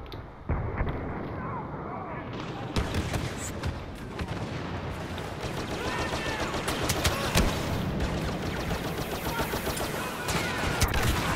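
Blaster gunfire fills a Star Wars Battlefront match in dense, continuous overlapping bursts, mixed with explosions and battle noise throughout.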